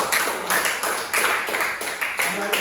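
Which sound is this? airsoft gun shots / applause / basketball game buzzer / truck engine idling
applause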